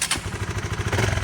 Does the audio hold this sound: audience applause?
no